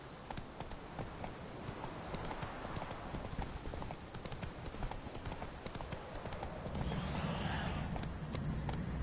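Horse hooves clip-clopping at a steady gallop in the video game The Witcher 3, a fast continuous rhythm of hoofbeats with a brief whinny, running alone without talk.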